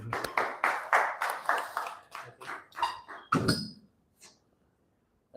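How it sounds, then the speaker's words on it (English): A small audience at a team-building talk claps in uneven bursts, several quick rounds of hand claps that fade out and leave near silence at the end. "Let's clap."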